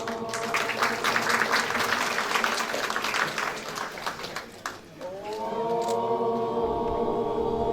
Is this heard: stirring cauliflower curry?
no